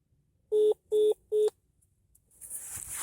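After a telephone call is hung up, three identical short, loud electronic beeps sound in quick even succession, followed by silence and then a rising hiss of line noise.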